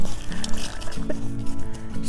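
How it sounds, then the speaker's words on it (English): Water is poured into a plant pot prepared for lavender cuttings, a close, continuous liquid trickle and gurgle with small splashy bursts lasting about two seconds, no talking. "I'm going to pour a little water in my pot"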